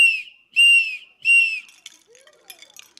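Three loud, sustained whistle blasts from a cow-horn whistle from India, each held about half a second with bright overtones, followed by faint scattered higher chirps.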